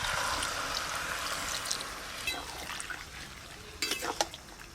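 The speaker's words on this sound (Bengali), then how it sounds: "জল দেব।" Water pours into a curry pan holding a rohu fish head and stirred spices with greens, a steady near splashing stream with a few clinks of utensil on the pan toward the end.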